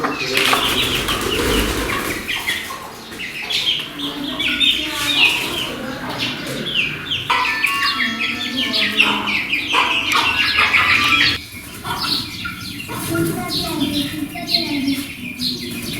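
Free-range chickens on a rooftop flap their wings and cluck in a busy, close flurry as a hen is carried down, with the commotion continuing throughout.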